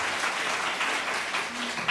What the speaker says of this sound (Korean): 주님께 영광의 박수 올리겠습니다